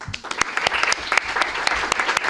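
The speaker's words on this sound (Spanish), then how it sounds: "Te damos la bienvenida y también un aplauso" An audience applauds to welcome a speaker at a business panel session, a dense, steady wash of many hands clapping close by for a couple of seconds.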